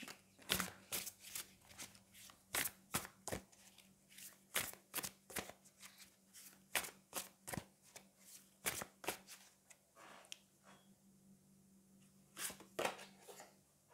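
Tarot cards shuffled by hand, close and quiet, in a series of short crisp riffling bursts separated by brief pauses.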